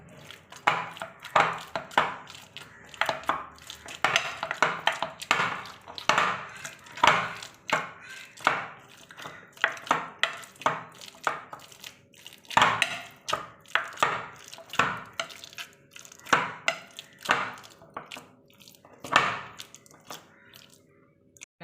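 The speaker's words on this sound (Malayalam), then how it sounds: "ഇനി നമുക്കിതൊന്ന് ഉടച്ചെടുക്കണം. അതിനായി ഒരു ഗ്ലാസ് വെച്ച് നമുക്കൊന്ന് ഉടച്ചെടുക്കാം." Deseeded banana mashed by hand with a glass for unnakkaya: a long run of soft, irregular squishy thuds and taps, close and moderately loud, with brief pauses between pressing strokes and no talking.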